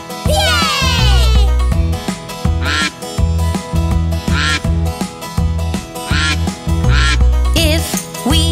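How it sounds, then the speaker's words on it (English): Cartoonish duck quacks repeat in short bursts over bouncy, loud children's farm-song music, with a steady beat under them. "If we hear the sound, quack, quack, quack, quack, which animal could it be? A duck?"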